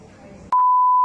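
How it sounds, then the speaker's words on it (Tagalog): After a brief moment of quiet room tone, an answering machine emits a single loud, steady beep that holds to the end, marking the start of a recorded message. "Please leave a message after the beep."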